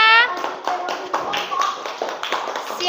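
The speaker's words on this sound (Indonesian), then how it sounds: "Beri tepuk tangan untuk Fahira" A classroom of students claps together for a classmate, a dense burst of close, steady hand claps running for a few seconds, with a voice speaking at the start.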